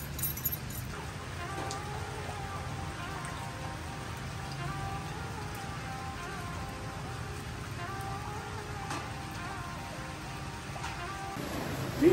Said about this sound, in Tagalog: Okay lang naman na malakas ang ulan.